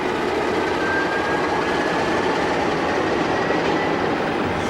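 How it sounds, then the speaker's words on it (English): A Portuguese 1551 class locomotive hauls a sand freight train, a steady broad rumble of rolling wagons with a faint thin squeal, continuous and fairly loud, with no voices. "The 1551 class of locomotive represents an updated version of the older 1500s."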